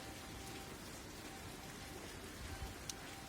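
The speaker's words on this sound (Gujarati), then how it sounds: "સવારથી જ વરસાદ વરસી રહ્યો છે" Steady rain patters softly on a surface in Jam Raval, Gujarat, with a few individual drops standing out; quiet and continuous.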